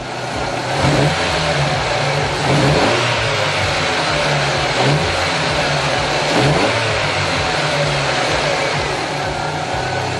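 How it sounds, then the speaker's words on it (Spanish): A car engine runs steadily and is revved in several rising surges while its crankshaft sensor is being diagnosed, loud and close for the whole stretch. "Y ahora vamos a acelerar el vehículo."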